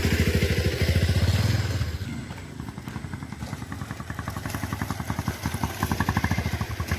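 A motorcycle engine chugs close by on a damaged village road, with a rapid pulsing exhaust beat that eases off and then builds again as the bike labours over rough ground.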